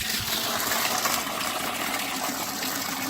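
Water gushes strongly through a pipe just after a ball valve is opened during a water heater test, a loud, steady broadband rush that surges at first and then holds even, with no talking.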